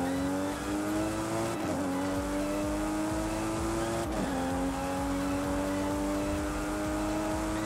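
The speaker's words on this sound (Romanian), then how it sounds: "mi se pare că au motorul cam tare" A race car engine in Forza Horizon 5 drones loudly and continuously, its pitch climbing steadily with two brief dips at gear shifts, close and alone.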